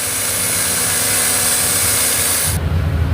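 A power drill polishes a ceiling fan shaft at close range, a continuous broadband grinding hum that shifts to a lower, rougher tone near the end.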